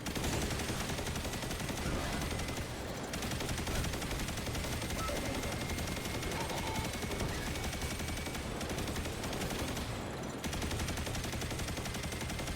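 The Heir Apparent machine gun fires in the video game Destiny 2 as a sustained, dense stream of rapid shots. The loud fire runs almost unbroken across the whole stretch, with only a couple of brief dips.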